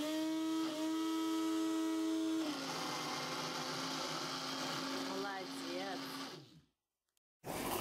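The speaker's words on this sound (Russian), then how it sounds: "Милочка, ягодки в блендере." A blender whirs steadily as it mixes blackcurrants and other berries for homemade ice cream, loud and close, with a pitch shift partway through before it cuts off and brief quiet follows.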